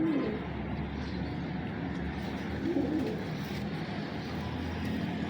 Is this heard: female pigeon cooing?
yes